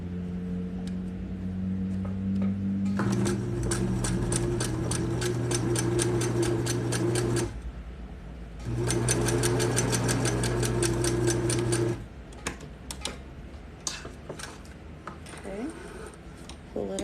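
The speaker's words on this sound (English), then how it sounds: "we're going to go back over the stitch, make it a smaller stitch length" A sewing machine runs a short-length stitch over a seam on clothing, two steady bursts of rapid mechanical whirring about four seconds each, separated by a pause, followed by quieter handling noises.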